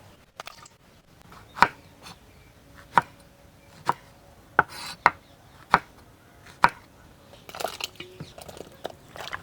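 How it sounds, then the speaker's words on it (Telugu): A knife chops brinjal (eggplant) into long pieces for a dry fish curry, giving about eight sharp, evenly spaced thuds against a board, followed by some rustling as the pieces are handled. "వంకాయలు ఈ సైజు ఇలా పొడవుగా కోసుకుంటే పులుసుకు సూపర్గా ఉంటుంది"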